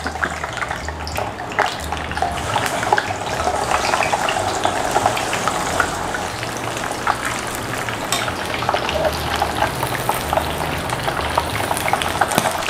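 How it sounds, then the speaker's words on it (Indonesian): Steady, loud sizzling and crackling of eggs frying in hot oil, continuous spitting pops throughout with no talking. "Minyaknya sudah panas, mau kita goreng telurnya."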